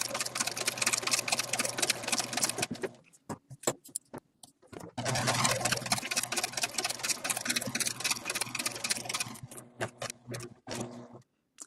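Sewing machine running a dense satin zigzag stitch at full width with a very short stitch length along a fabric edge, a steady close whir in two long bursts with a brief pause of clicks and handling between them.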